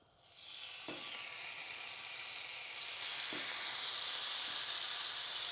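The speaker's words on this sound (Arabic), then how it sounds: "هنبدا بقى ننزل حته الستيك، واسمعوا معايا الطشه الجميله" A Kobe A5 steak, cooked in its own fat with a little olive oil, hits a hot cast iron pan and bursts into loud, steady sizzling. The bright frying hiss builds quickly and holds, with a couple of soft knocks underneath.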